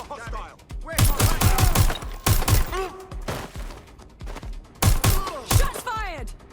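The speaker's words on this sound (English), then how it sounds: "Shots fired!" Gunfire in the Watch Dogs Legion video game: repeated bursts of rapid shots and volleys with thuds, loud and close, coming in several clusters with game voices shouting between and over them.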